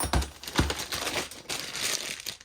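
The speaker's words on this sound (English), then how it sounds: "So let's unwrap or unpackage and get these bad boys in the rack." Plastic packaging crinkles and rustles as a Tekton metric combination wrench set is unwrapped up close, in a continuous run of crackling with a few sharper snaps.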